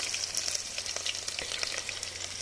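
Whole spices and chopped green chili crackle in very hot oil over an outdoor wood fire beside a forest stream, a dense, continuous close sizzle with quick popping ticks throughout.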